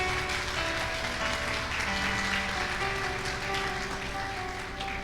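A church congregation applauds in praise during a Spanish-language sermon, a continuous mid-level patter of many hands with steady tones sustained underneath, heard from some distance in a reverberant hall.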